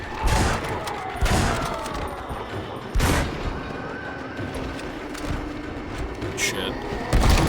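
Bolt-action rifles fire in the Western video game Red Dead Redemption, with several loud, sharp reports spaced a second or two apart, each ringing out with echo, over steady game ambience while a voice talks between shots.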